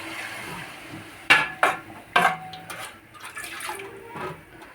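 Water is poured into a pot of beef curry as it cooks, a soft close splashing broken by a few sharp clatters of the pan, with no voices.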